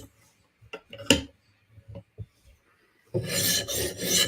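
A Steel Will flipper knife is drawn over a sharpening stone in light strokes to reduce the burr, several short separate rasps followed by a longer, louder continuous scraping pass, close up and without talk.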